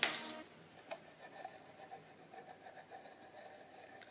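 Faint, close scratching and rubbing of a trackball ball in its socket, a dry papery grating with small irregular ticks after a brief louder rustle at the start; no voices.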